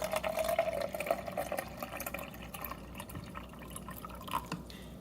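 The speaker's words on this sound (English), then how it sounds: "leaving the cap on, we're just gonna pour to the 6-ounce mark" Warm water pours into a baby formula bottle with the cap left on, filling to the six-ounce mark; a quiet, trickling stream with small splashes and drips that tapers off after a few seconds.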